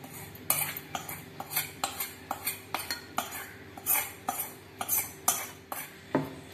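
Bottle gourd chutney is mixed in a metal vessel with a spoon, giving a quick series of close, sharp scraping clinks in a steady rhythm.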